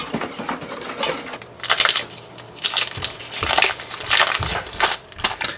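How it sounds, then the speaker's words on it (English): Sugar and half a teaspoon of salt whisked together in a bowl, a steady scratchy rattle of rapid whisk strokes running throughout, close and fairly loud. "Whisk this together to mix it."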